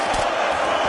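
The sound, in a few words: crowd cheering at a UFC fight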